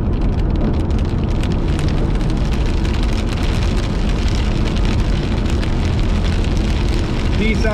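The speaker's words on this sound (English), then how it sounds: "Pea-sized hail is falling with this cell." Pea-sized hail and heavy rain pelt down during a severe thunderstorm, a loud, dense, unbroken clatter of countless impacts filling the whole stretch without pause.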